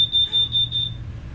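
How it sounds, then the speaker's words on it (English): A smoke alarm set off by dry shampoo sounds one steady, piercing high beep that holds for about a second before cutting out, over a low background hum. "Dry shampoo setting off the fire alarm."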